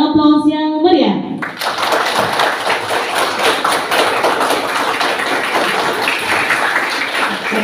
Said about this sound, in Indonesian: Mari kita sambut dengan aplaus yang meriah.